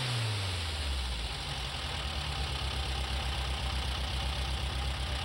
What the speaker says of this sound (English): Obviously, it's a 1900cc DeLardo motor.